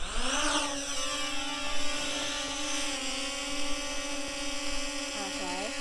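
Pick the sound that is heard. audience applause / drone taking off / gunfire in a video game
drone taking off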